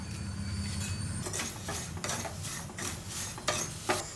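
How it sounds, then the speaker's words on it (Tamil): Dry spices and curry leaves scrape and rustle in a pan over a slow flame as a spoon stirs them in repeated strokes, with a soft sizzling hiss underneath, close and fairly quiet. "நல்லா ஸ்லோ ஃப்ளேமில் வச்சு நல்லா வறுத்துக்கலாம்."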